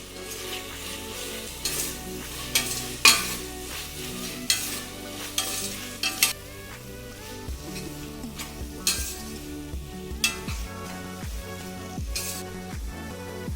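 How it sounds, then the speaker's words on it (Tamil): Coriander being sautéed in chicken biryani masala in a pan, a continuous close sizzle broken by repeated spoon stirs and metallic clinks against the vessel, no talking. "கொத்தமல்லி தலை சேர்த்துட்டு நல்லா வதக்கிக்கோங்க"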